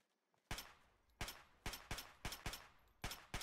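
Fallout 3 game gunfire: seven fairly faint shots come in an uneven, quickening series, each a hard boom with a short decaying rumble.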